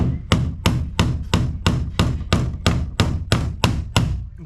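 A hammer drives a nail into a wall panel during a house renovation in the Philippines, with about a dozen sharp, evenly spaced blows in a steady rhythm, loud and close, with no voices.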